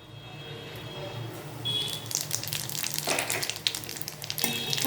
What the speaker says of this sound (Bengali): রাঁধুনিটা ভাজা হয়ে গেলে, রাঁধুনির যখন স্মেল বেরোবে